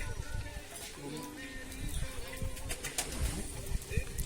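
A pigeon being offered water and grain gives a few soft, low coos, fairly quiet against faint background noise and light rustling.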